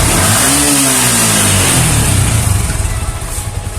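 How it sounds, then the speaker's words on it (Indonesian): Used motorcycle engine revved hard to high RPM during a condition check, a loud, close, sustained roar that climbs and then pulses as it settles. "Tapi kalau kita gas dengan RPM tinggi"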